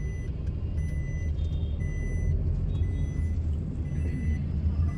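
Heavy road traffic with a bus pulling up in a crowded street, a steady low engine rumble and faint reversing-style beeps running throughout, fairly close and continuous.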